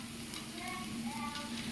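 Small raw chickpea dosas frying in oil on a tawa, a soft, steady sizzle with faint clinks, fairly quiet and continuous.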